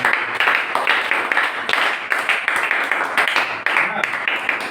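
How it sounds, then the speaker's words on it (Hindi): Students in a Hindi-medium seventh-grade maths class clap together, a run of sharp, close hand claps in a brisk uneven rhythm, with voices mixed in the room. "ताली बजाओ"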